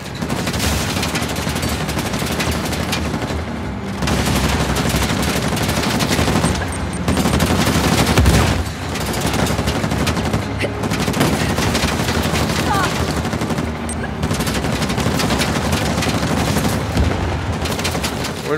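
Sustained heavy enemy gunfire in Uncharted: The Lost Legacy, dense automatic bursts and booming impacts rolling almost continuously at high loudness, with brief lulls, and a person talking over the firefight.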